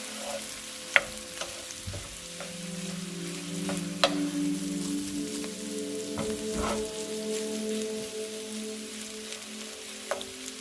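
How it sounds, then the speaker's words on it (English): Butter melting and sizzling in a skillet of bacon and linguica sausage, a constant close frying hiss with occasional spoon scrapes and taps as it is stirred in. "So we add an ounce of butter. We mix that in."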